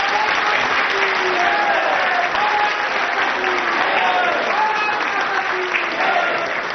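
Studio audience at a televised public court-style programme clapping for Uttar Pradesh Chief Minister Yogi Adityanath. Steady, dense applause carries at full strength throughout, with faint voices underneath.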